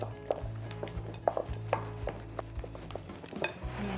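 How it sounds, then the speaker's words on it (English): A white chocolate cheesecake filling is mixed in a bowl, giving soft irregular stirring and scraping taps against the bowl, close and fairly quiet, with no voices. "Just give that a lovely mix together."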